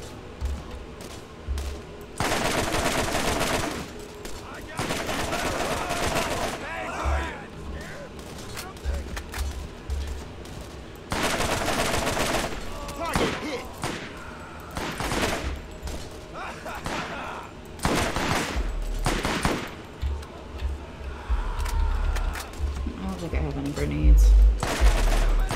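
Gunfire in the Borderlands video game, aimed at a wall: repeated loud bursts of shots in several volleys over a long stretch, with gaps between them and people talking over parts of it.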